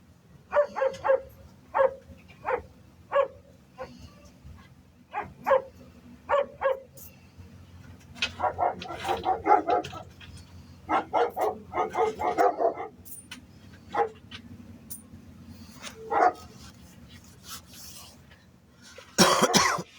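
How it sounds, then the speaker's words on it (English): Dogs barking on a 25-acre rural property, with a run of sharp, evenly spaced barks followed by denser overlapping barking and yips from several animals, fairly close, over a low steady hum. "Let y'all see my dogs."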